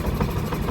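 A passenger boat engine idles at a jetty in Sambranikodi, a steady low rumble with faint vibration running unbroken and close by, with no voices over it.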